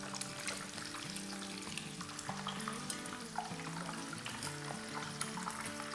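Kabab bread rolls fry in a pan with a steady, close sizzle that crackles on throughout, with faint soft sounds underneath and no voices.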